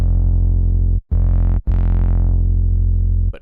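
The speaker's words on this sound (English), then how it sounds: "I really like the Teletube distortion" Trap bass synth patch in Massive driven through Teletube distortion, a loud, buzzy, sustained low tone broken by two brief gaps and a slowly darkening gritty top end, heard alone.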